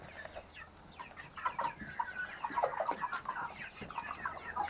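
Chickens in a coop, several birds clucking and murmuring in short irregular bursts, close but fairly quiet, with no talking.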